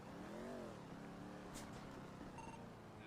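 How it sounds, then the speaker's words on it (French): A motorcycle engine somewhere behind the listener gives off a steady, revving rumble that rises and dips in pitch, close and constant throughout, with no voices over it. "Je crois qu'il y a une moto derrière."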